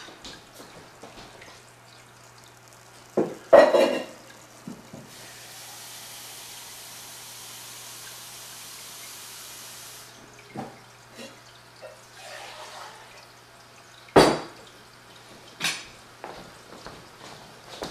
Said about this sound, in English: I'm just going to put some water in here. We'll put 2 cups in.